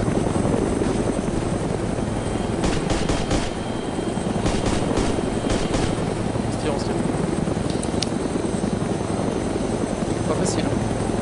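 A helicopter engine and rotor in the video game DayZ drone loud and continuous throughout, with clicks and brief sharp game sounds layered on top.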